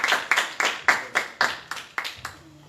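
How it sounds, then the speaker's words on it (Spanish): Sparse, rhythmic hand claps from a seminar audience of lawyers greeting a guest speaker, about eight distinct claps spaced evenly, fairly close and moderately loud, fading into a low hum at the end. "doctor Wilmer Gustavo Concepción Carguancho, a quien recibimos con fuertes aplausos."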